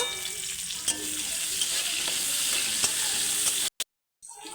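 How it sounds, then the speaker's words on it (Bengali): Chopped onions fry in hot oil in a wok, giving a steady, loud, close sizzle with occasional stirring clinks, then a brief cut to silence near the end. "তেল গরম হয়ে গেছে পেঁয়াজটাকে একটু ভালো করে ভেজে নেব"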